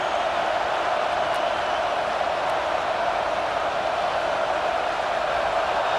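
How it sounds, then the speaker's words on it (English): A stadium crowd at a Michigan Wolverines versus Wisconsin Badgers college football game roars on third down, a dense, steady wash of cheering noise that holds without breaks. "Decibels rising as the crowd gets behind this defense on third down."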